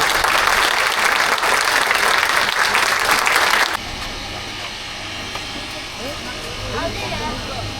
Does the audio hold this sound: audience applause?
yes